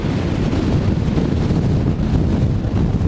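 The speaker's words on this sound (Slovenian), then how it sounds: "Burja me skoraj premika." A strong gale buffets the microphone on the shore of Namtso lake on the Tibetan plateau, a loud, constant low roar of wind noise with no talk.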